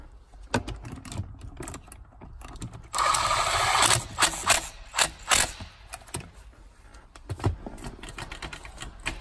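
The shifter of a newly installed manual transmission in a Lexus IS300 is worked through the gears, producing a series of close mechanical clicks, clunks and ratcheting knocks, with a brief denser rattle near the middle.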